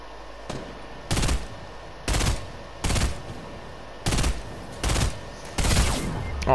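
Six sharp, loud shots ring out at a steady, evenly spaced pace in the battle royale video game Fortnite, each a crisp burst standing out clearly above a low background hum.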